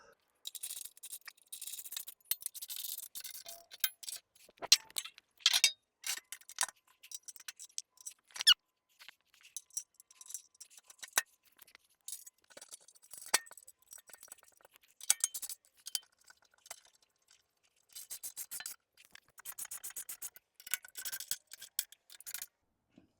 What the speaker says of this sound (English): let me tighten these back bolts up